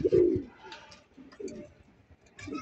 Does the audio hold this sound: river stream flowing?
no